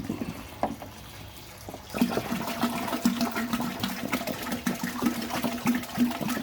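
After a brief quiet moment, about 4.75 gallons of water start pouring steadily into a large brew kettle for homebrewing, a continuous gurgling rush that lasts several seconds.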